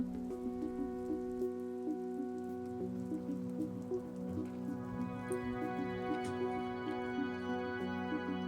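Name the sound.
rain falling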